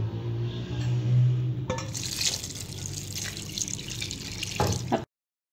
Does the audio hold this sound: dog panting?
no